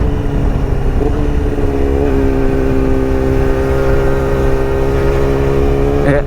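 A Yamaha R6 sport motorcycle engine revs loudly and close, holding a high, sustained whine with shifting pitch throughout.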